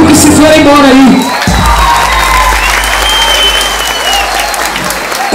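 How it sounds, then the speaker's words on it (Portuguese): A crowd at a party claps and cheers in a loud burst that carries on steadily, with whoops and voices mixed through the applause. "Uma salva de palmas para todos os amigos que se foram embora aí"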